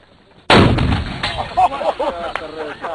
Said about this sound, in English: A little sympathetic detonation there.